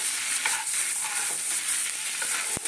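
Pre-fried potatoes are stirred into a bubbling egg omelette curry, with a loud, continuous close-up sizzle cut by repeated spoon scrapes and a sharp knock at the very end; no one talks.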